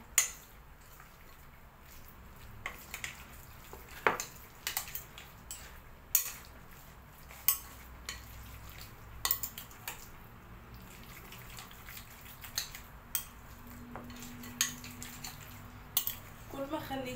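A utensil mixing a spiced chicken filling in a bowl, heard as repeated sharp metallic clinks and scrapes against the dish at an irregular pace, close by, with faint water sounds in the background.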